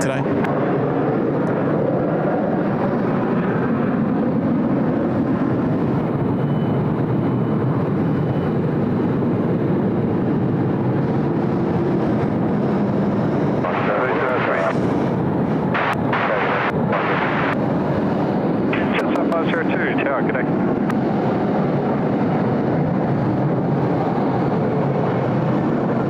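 A Japan Airlines jet bound for Tokyo takes off from Sydney Airport runway 34 left, its engines producing a loud, sustained roar with heavy rumble and wind buffeting, while a voice talks over it.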